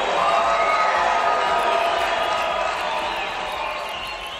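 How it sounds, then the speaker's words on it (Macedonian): A studio fashion-show audience applauds loudly in dense, continuous clapping with some crowd noise, fading slightly toward the end. "многу гласно да даваат аплаузи сите"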